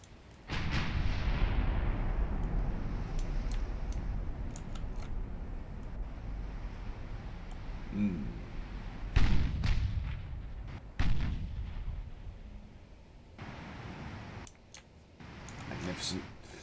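Naval guns in a battleship-era fleet battle game boom in deep, rumbling salvos with long rolling tails, spaced irregularly across the stretch at moderate loudness.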